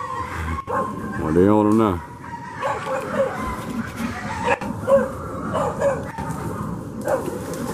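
Dogs bark and yip in short bursts, mixed with a person talking and calling out, with a rising howl-like yelp partway through.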